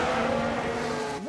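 A Ferrari spinning out in the F1 Manager 22 racing game, a sustained engine drone that ends with a rising, squealing swoop.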